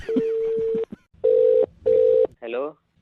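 Right after a prank call is hung up, a phone line sounds a run of three loud, evenly pitched beeps separated by short gaps, with a voice briefly overlapping the first tone and speaking again near the end.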